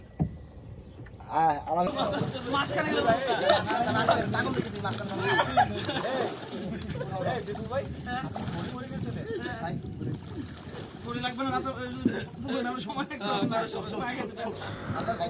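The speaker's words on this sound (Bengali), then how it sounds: "এখন একটু বোট রাইড করতেছি" A small boat glides along a river in the Sundarbans, its soft water and hull sounds running under steady chatter and laughter from a group of people on board.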